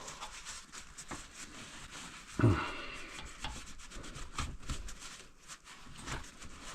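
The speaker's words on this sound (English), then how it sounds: "So I'm just gonna wipe off the excess here" A rag wipes excess product off a part of a 1975 Honda XL250 motorcycle, making close, steady rubbing and scraping strokes with one louder scuff partway through.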